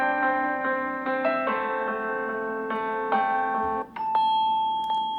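The Swan ringtone on a Samsung Galaxy S20 Ultra 5G phone plays clearly with no talk: a series of clean, bell-like chime notes in a gentle melodic sequence, each ringing and overlapping into the next before a brighter final tone.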